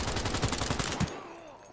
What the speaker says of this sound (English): running up to their face and shooting